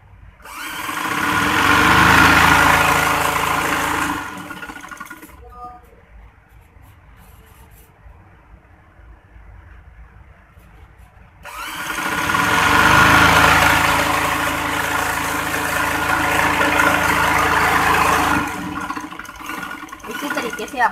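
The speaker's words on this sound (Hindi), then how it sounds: "हम आपको सिलाई लगा के दिखाते हैं। ये देखें, इस तरीके से हम कलियों को जोड़ेंगे।" A sewing machine stitches lehenga kali panels together in two long, loud whirring runs of several seconds each, with a quieter pause between them.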